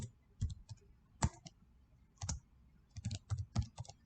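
Fingers type an ID number on a computer keyboard in a quiet room, with short irregular bursts of crisp key clicks separated by brief pauses.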